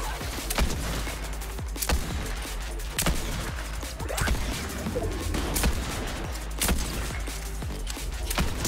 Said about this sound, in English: Nobody expects the deadly explosive repeater.